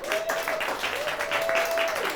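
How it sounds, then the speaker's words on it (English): Audience applause fills the short stretch, with steady clapping from a crowd and a sustained tone running beneath it. "Give yourselves a round of applause."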